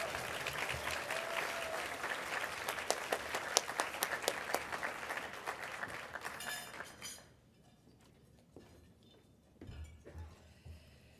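Audience applause at an indoor school reading event welcomes a speaker to the stage, a dense burst of clapping that fades out, followed by faint footsteps and a brief rustle.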